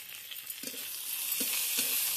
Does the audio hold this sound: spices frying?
yes